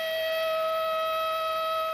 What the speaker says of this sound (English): It goes off with an alert or a siren that will activate for about 5 seconds